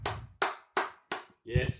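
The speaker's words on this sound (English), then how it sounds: "Round of applause for that" Four sharp, evenly spaced hand claps ring out close by, followed by a fuller, louder clap burst, a brief round of applause from a small group.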